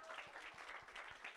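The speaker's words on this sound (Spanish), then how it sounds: "Aplausos, por favor," Applause for the winning team at a game show, a faint, steady patter of many hands with a loose rhythmic pulse, continuous through the short stretch.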